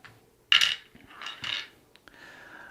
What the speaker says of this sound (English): My dice rolled there.